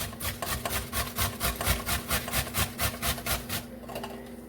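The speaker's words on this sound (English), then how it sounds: "I might not grate all, I might just grate some." Ripe papaya is scraped against a grater in a quick, steady rhythm of rasping strokes, close and fairly faint, stopping near the end.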